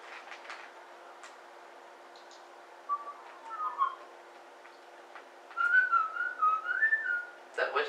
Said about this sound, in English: That whistling is really annoying over Skype.